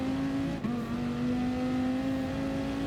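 A Dodge Viper Gr.3 race car in Gran Turismo holds a steady engine drone around Spa Francorchamps, with a brief dip near the start and then a sustained, loud, even tone with no voices.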